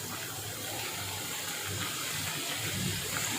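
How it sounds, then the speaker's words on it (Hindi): Katori cups frying in a pan of hot oil, a dense, steady bubbling sizzle that stays even and fairly quiet, with no talking. "इसको गोल्डन ब्राउन होने तक अच्छी तरह से फ्राई करनी है।"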